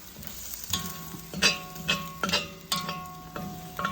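Green curry beef with noodles and vegetables being stirred and pushed around a pan with the heat just off: repeated scraping strokes over a soft, steady sizzle, close and fairly quiet.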